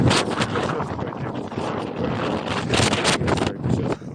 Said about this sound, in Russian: ветер опять у нас, ветер, опять холодный